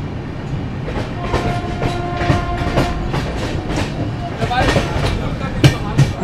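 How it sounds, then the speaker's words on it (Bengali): A passenger train pulls into Barddhaman Junction platform with steady rumble and rhythmic wheel clatter over the rails, loud and close, with a faint voice briefly in the background. "ফাইনালি আমাদের ট্রেন এসে পৌঁছালো বর্ধমান জাংশন"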